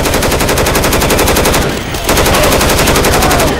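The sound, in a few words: shotgun firing in video game Left 4 Dead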